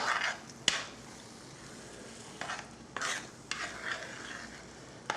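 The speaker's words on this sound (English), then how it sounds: "we stir it all together" A spoon stirring sauce in a pot, soft scraping strokes and an occasional clink against the side over a low background hiss, quiet and close.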